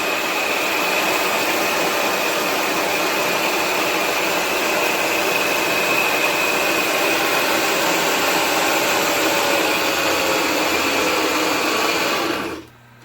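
A 1969 Clausing Kondia Powermill milling machine runs in reverse with a steady, loud motor whine and a faint high tone, continuous and close, then cutting off abruptly at the end.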